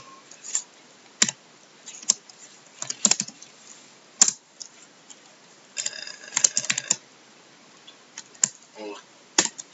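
Keys on a computer keyboard are tapped in irregular clusters and single clicks while C# code is typed, close and fairly quiet, with a brief murmur of speech between the taps.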